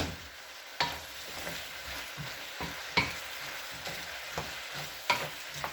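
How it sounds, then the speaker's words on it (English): Sweet and sour pork with peppers stirred in a hot pan: continuous close sizzling frying with regular scrapes and clacks of a spatula against the pan every second or so. "Let's give it a good mix."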